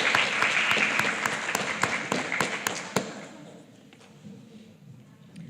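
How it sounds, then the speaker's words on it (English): At a primary school prize giving, the audience applauds a third-place winner with loud, dense clapping and some sharp individual claps, then dies away to a murmur of voices. "You can applaud."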